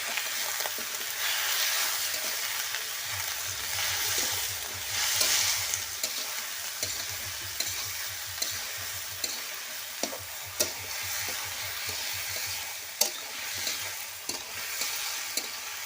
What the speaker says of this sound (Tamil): கத்திரிக்காயை சேர்த்துட்டு நல்லா வதக்கி விட்டுட்டு உப்பு போட்டு கொஞ்சமாக மூடி வச்சுட்டா கத்திரிக்காய் நல்லா வதங்குதும்